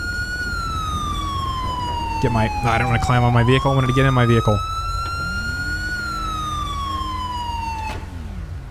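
Police car siren in GTA 5 with the LSPDFR mod, a loud continuous wail sweeping down and up throughout, with someone talking over it in the middle before the tone carries on alone.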